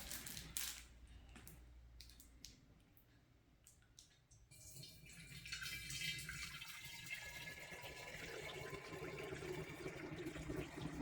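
Liquid for homemade mead splashes and trickles through a funnel into a vessel, starting with scattered drips and taps, then settling into a steady, fairly quiet pour that runs continuously to the end.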